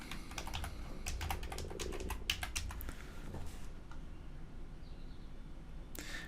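Fast bursts of typing on a computer keyboard, a quick run of crisp key taps that thins out, pauses, then ends with a single sharp keystroke.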